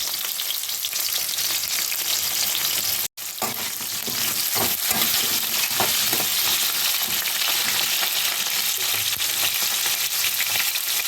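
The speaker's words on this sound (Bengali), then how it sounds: "পটলটা লাল করে ভেজে নিতে হবে" Sliced pointed gourd (potol) sizzles steadily in hot oil, a dense continuous frying hiss with a few stirring clicks and one brief cut partway through.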